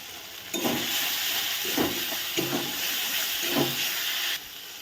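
Water poured into a pan of frying spice paste of coriander powder, chili powder, salt and sugar gives a steady hiss and sizzle with a few brief bursts, close by, with no talking.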